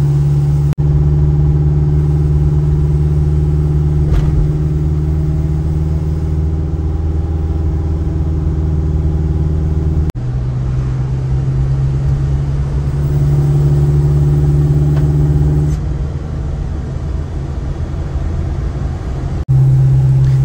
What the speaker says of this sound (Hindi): शीशा खुला है गाड़ी का और इतने मज़े की अंदर हवा चल रही है